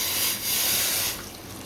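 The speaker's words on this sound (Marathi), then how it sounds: "सो आता गरम पाणी ॲड करूया" Hot water pours into a cooking pot of chicken curry with a rushing, splashing hiss, surging for about a second before easing off into a softer trickle.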